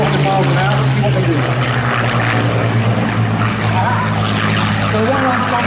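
A Spitfire and a Messerschmitt 109 Buchon fighter close together at about 400 mph, their propeller engines roaring loudly and continuously with a steady droning hum, and a voice talks over them.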